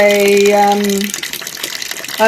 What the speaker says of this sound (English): This is me emptying the water out of the pasteurizer